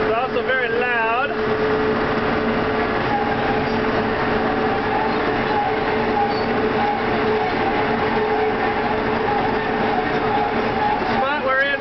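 A farm harvester cutting wheat gives a steady, heavy mechanical drone with rattling throughout, while a person talks over it.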